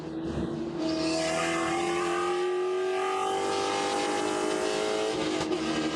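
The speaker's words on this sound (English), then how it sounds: "That is a sickly sounding engine. Just not getting all the way up through the rev range." A Spec Corvette race car engine down on power drones loudly and continuously at Daytona International Speedway, its pitch rising slowly and straining without climbing fully through the revs, with no talk over it.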